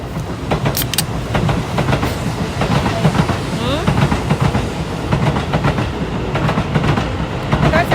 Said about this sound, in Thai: เสียงดังหน่อยนะคะ รถไฟอยู่ข้างสถานีรถไฟ